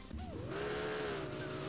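Dodge Viper engine in an arcade racing video game, a steady, close revving drone that climbs gently in pitch and holds for over a second, with no other sounds.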